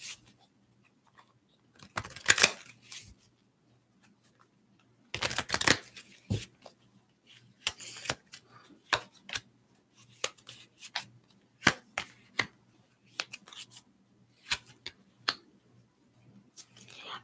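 Cards are drawn and shuffled in a quiet room during a card reading, giving irregular close bursts of papery flicks and soft slaps separated by short pauses.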